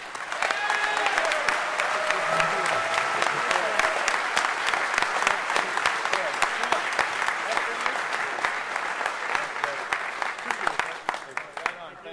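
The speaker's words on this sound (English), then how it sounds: "Let's give them an incredible round of applause." An audience at the DEFCON 20 hacker conference closing ceremony gives dense, sustained applause for the full stretch, loud and continuous, with scattered cheers and voices mixed into the clapping.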